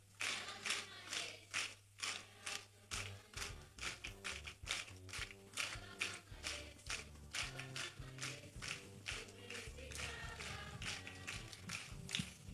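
A church congregation claps in steady rhythm along to a worship song in an Indonesian service, with sharp, regular claps over the music.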